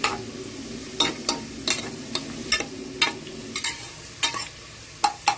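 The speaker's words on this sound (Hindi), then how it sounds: "चलिए हम प्याज को ब्राउन कर लेते हैं, ये फटाफट बन जाता है" Sliced onion frying in hot oil for mutton korma, with a steady close sizzle broken by repeated sharp scraping stir strokes roughly every half second.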